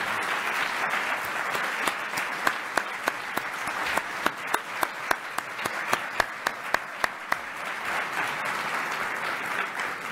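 An awards dinner audience at the RTDNF First Amendment Awards applauds at moderate distance, a sustained blend of many hands with a few crisp claps popping out, no talking over it.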